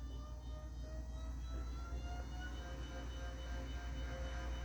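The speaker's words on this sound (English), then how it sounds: "As you can see, the stepper motor is running." A stepper motor turning a 3D printed V6 engine model whines steadily with shifting tonal pitches over a constant low hum, heard close and alone.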